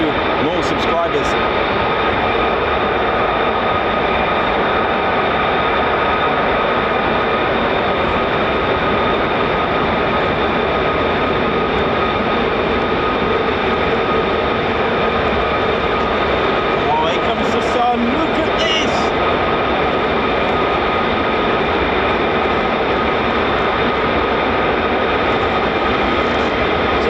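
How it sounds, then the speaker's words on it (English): F-35A fifth-generation stealth fighters, each with a single Pratt & Whitney F-135 turbofan, at RAF Lakenheath: a steady, broad engine roar sustained throughout, loud and continuous with brief sharper bursts near the start and around the middle. "F-35As here, ladies and teddy bears. These are 5th generation stealth, powered by one single Pratt & Whitney F-135 turbofan engine."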